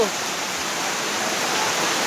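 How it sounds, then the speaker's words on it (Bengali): Heavy rain pours down in a dense, steady hiss, unbroken and loud for a couple of seconds, with no speech. "এই যে দেখুন কি বৃষ্টি পড়ছে গো"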